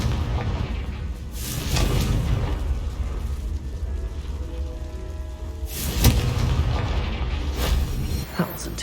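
A Confringo fire spell bursts in Hogwarts Legacy, a booming blast that recurs a few times over a rumbling game backdrop, the strongest hit near the middle.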